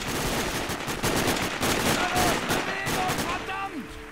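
Gunfire in the video game Sniper Ghost Warrior: loud, rapid bursts of automatic shots, close and dense, continuing almost without pause before tapering near the end.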